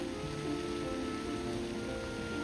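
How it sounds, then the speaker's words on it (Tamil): Steady rain falling outdoors in Germany, a dense, even patter on surfaces that continues without a break, fairly soft and unaccompanied by voices. "மழை பெஞ்சிக்கிட்டே இருக்குது."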